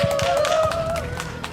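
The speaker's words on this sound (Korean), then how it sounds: "다시 한 번 더 박수 부탁드리겠습니다" An audience at a press conference on pedestrian mobility rights in Busan claps briefly, a short burst of scattered hand claps under a sustained tone.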